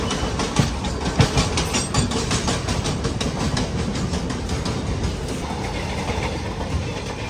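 The Ahmedabad Superfast Weekly Express pulls into Jalgaon junction with a loud, close, continuous rumble and rhythmic clickety-clack of wheels over rail joints, holding steady for the whole stretch.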